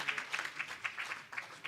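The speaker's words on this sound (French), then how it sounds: "Je crois qu'on peut applaudir." Brief, faint audience applause from a roundtable conference audience, a light scattered patter of hands clapping at some distance.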